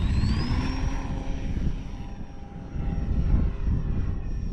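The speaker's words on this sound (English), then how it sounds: "This is my banner tow plane, so it's very capable of flying." An E-flite Valiant RC banner tow plane flies in strong wind, its electric propeller whine steady and fairly loud throughout, with a long pitch glide rising as it passes, over blustery wind rumble.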